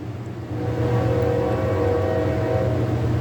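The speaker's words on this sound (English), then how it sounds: "Oh, here's the train." A train pulls into a station, its low steady rumble and rail noise swelling in after half a second and holding loud and close to the end.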